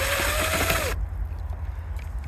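A screwdriver or drill backs out small screws that hold roof fascia on a house. A short whirring, ratcheting burst is followed by softer handling noises close by.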